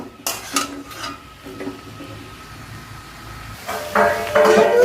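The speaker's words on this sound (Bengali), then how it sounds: "এই যে ভেজে রাখা চিংড়ি মাছটা একটু দিয়ে দেবো দিয়ে আবারও একটু বেশ ভালো করে নাড়িয়ে চাড়িয়ে নেবো" Prawns being stirred and fried in a pan with coconut, with soft scraping and clinking of a utensil against the pan over a low sizzle, growing louder near the end.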